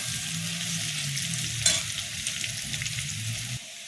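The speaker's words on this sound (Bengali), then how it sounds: "এবার রসুনটা একটু ভাজা ভাজা হয়ে যায়।" Crushed garlic frying in a pan for Bengali-style ghugni gives a steady, close, broadband sizzle with a brief sharp clatter near the middle, and no talking.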